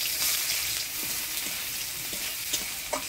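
Chopped onion and black cumin seeds sizzle in hot oil left over from frying fish, a bright continuous crackle with a few scraping stirs and soft pops near the end, close by and without talk.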